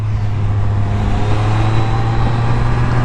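Can-Am Spyder F3 three-wheeled motorcycle engine pulling hard through its gears, a steady loud drone with a strong low hum and wind rush, close and continuous without speech.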